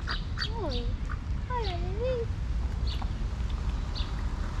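Ducks quack and call near a small fountain in Segovia, Spain, with several close downward-sliding calls over steady splashing water while a person speaks briefly.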